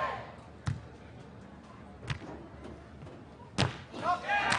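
Beach volleyball men's world championship semi-final, Netherlands versus Canada: a hard spike smashed down over the block lands as a sharp thud amid several impact hits, with crowd murmur and commentary running underneath.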